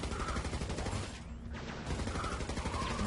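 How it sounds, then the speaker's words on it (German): Gunfire in the N.O.V.A. 2 shooter game, a dense, rapid run of shots at moderate loudness that briefly thins near the middle of the three seconds and then resumes. "Ja, wir müssen schießen."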